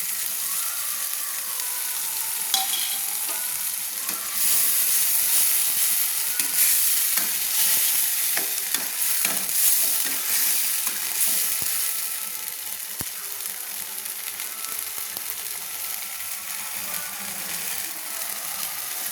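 Ginger paste fries in a pan for an egg kosha, a continuous close sizzle with scraping, clattering stirring strokes of a utensil against the pan, steady and fairly loud, without talk.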